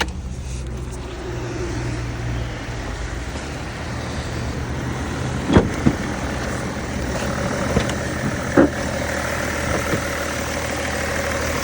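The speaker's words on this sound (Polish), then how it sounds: "motor masz odpalony, zimny." Cold-started car engine idling steadily with a low, even rumble, heard close up, with a couple of brief clunks and knocks partway through.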